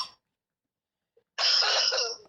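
A single harsh cough bursts out near and loud during Fortnite play, preceded by a brief faint noise and otherwise surrounded by silence.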